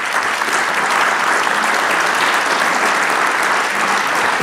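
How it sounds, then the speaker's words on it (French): Audience applause at a round-table event, dense and steady clapping from a large crowd filling the room at close range, with no speech over it. "On peut effectivement applaudir déjà nos six témoins bien fort."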